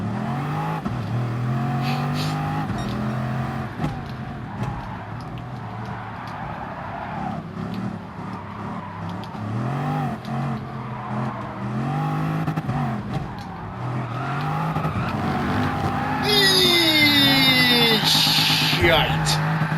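A car launching hard in second gear, engine note rising and falling through steady acceleration with a loud, raw, close sound, tires squealing briefly near the end, with people talking over the engine.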